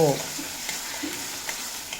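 Potatoes fry in a pan over a low to medium flame for a vegetarian pea ghugni, giving a soft, continuous sizzle with a few faint stirring ticks, steady and fairly quiet.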